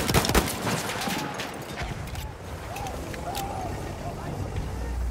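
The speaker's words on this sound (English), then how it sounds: "Feindliche SMG da drüben!" Enemy submachine gun bursts in Battlefield 1 combat: sharp, rapid shots early on, then scattered firing and battlefield noise with people talking over it.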